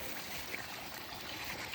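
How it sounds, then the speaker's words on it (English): Water from a beaver pond flows across a road in a steady, low, rushing wash, faint and continuous with no break. "Water's coming across the road right here."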